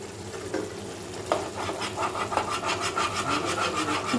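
Cashew and yogurt paste being stirred into chicken in a pan, a steady rubbing, scraping stir with soft wet texture and a few sharper knocks of the spoon, close and continuous with no talk.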